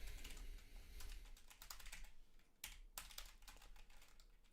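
Quick, light keystrokes on a computer keyboard as an email address is typed, faint and close, in irregular bursts with short pauses between them.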